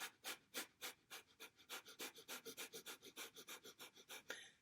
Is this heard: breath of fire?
yes